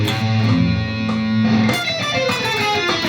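Fast, tightly alternate-picked neoclassical metal electric guitar run with sustained bass notes underneath, then a rapid cascade of notes climbing and descending, loud and up close.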